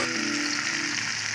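Ground garlic and shallot spice paste sizzles steadily in hot oil for an Indonesian luffa soup, a dense, continuous frying hiss close up with no voices.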